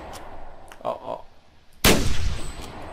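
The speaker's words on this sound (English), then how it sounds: "Two bad shots. At least I hit it the first one." Rifle shots at a moose in the hunting game The Hunter: a sharp loud crack near the middle of the short stretch, followed by a decaying rumble, after quieter muffled sounds.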